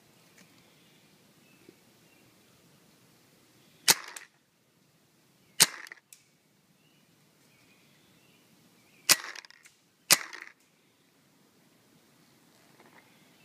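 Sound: Spyder Victor paintball gun firing, double trigger

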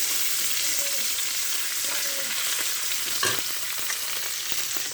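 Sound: frying in oil in a wok

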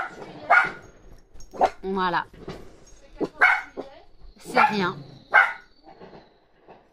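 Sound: dogs barking

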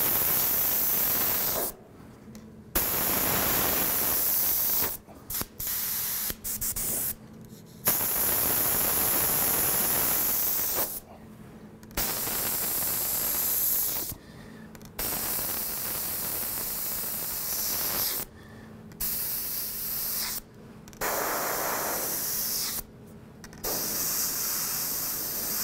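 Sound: airbrush spraying paint onto stencil

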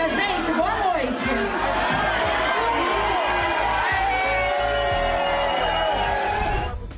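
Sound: audience booing a performer on stage

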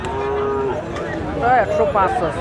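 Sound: Sahiwal bull mooing at a cattle market

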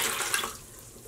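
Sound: tap water running while rinsing off dye

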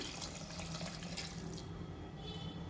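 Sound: water being poured into a pot

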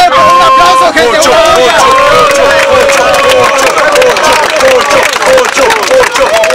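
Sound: audience applause and cheering at rap battle

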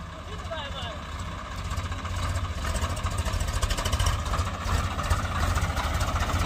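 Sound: Swaraj 735 FE tractor engine running in speed test

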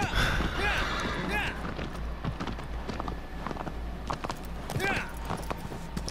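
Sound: horse hooves galloping in video game Shadow of the Colossus

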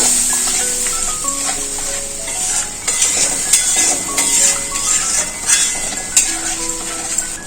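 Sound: spice paste frying in a pan with water

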